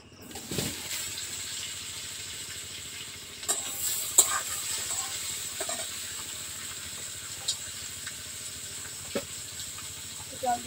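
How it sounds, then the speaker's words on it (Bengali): Bay leaves frying in hot oil for a Bengali kachcha mutton dish, giving a steady soft sizzle with occasional crackles and light stirring taps, close and fairly quiet, no talk. "তেল দিয়ে দিচ্ছি, প্রথমে তেজপাতা দিয়ে দিচ্ছি"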